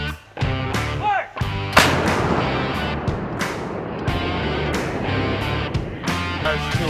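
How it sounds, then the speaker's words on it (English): Towed howitzers fire during a US Marine artillery exercise at Fort Bragg, a booming blast near the start and another sharp report about two seconds in, followed by rolling echoes and a rumbling field background. "Go ahead and hit the howitzer."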